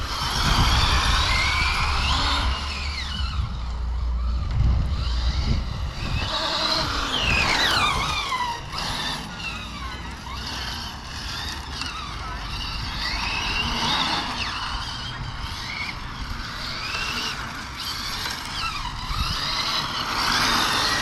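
A Hobao Extreme VTe2 El Camino radio-controlled car runs on a road, its electric motor whining loudly and steadily with shifting pitch and tire squeals as it bounces along, close and continuous with no talk.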